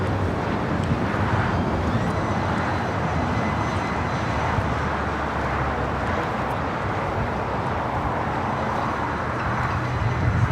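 An Air France Boeing 777-300ER airliner arrives at LAX from Paris, giving a steady, broad jet roar that holds even and loud throughout, with some wind buffeting the microphone.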